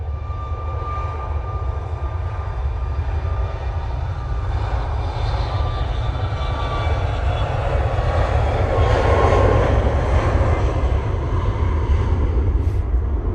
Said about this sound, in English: we've also got the TUI 737 MAX 8 going off to Bovista